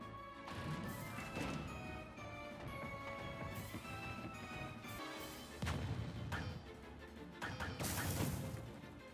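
Booming cannon shots and crashing impacts in Super Smash Bros. Ultimate's World of Light ghost cannonball puzzle, with loud bursts near 0.5, 5.5 and 8 seconds over a steady bed of game music and effects.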